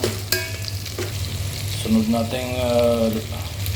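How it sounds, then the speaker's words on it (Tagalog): Kangkong (water spinach) stems sizzle in a hot pan as they are sautéed, with steady frying hiss and a few sharp clacks of a utensil stirring, continuous and close for several seconds. "Sunod natin gisahin yung katawan ng kangkong, yung matitigas na gulay."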